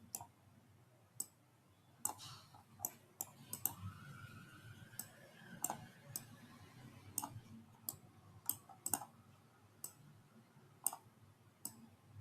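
Mouse clicks in CLO3D clothing design software, sharp isolated clicks in an irregular sequence, close and fairly quiet over a faint background.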